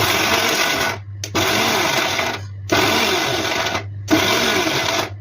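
Electric mixer grinder whirring loudly as it grinds masala for chicken curry, running in three bursts separated by short stops, close and steady, with no talking.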